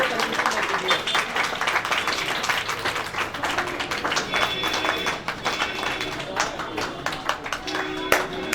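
Dense rapid clapping from a group of people, a steady wash of applause with crisp individual hand claps throughout and voices faintly underneath.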